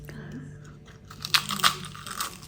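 A couple of sharp crunchy bites into a savoury garlic and paprika waffle, close and brief, with faint background hum and light movement around them.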